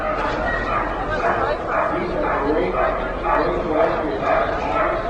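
A dog barks and yips repeatedly in short irregular bursts, fairly close, mixed with someone talking over it throughout.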